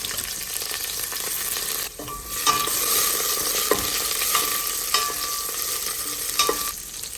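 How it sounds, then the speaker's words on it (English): Carrots and celery sizzle in a smoking-hot oiled pan, a steady close crackle broken by several sharp scraping stirs of a utensil, with no voices. "go ahead and add the celery and allow to cook."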